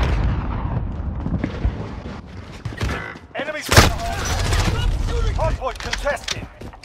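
Automatic gunfire and explosions in a Call of Duty Modern Warfare Hardpoint match on the St Petrograd map: bursts of shots and a sharp loud blast near the middle, mixed with game announcer voices.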